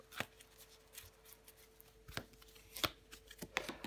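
Tarot cards being handled and laid down on a table, quiet soft slaps and papery rustles spaced irregularly, close and faint with no talking.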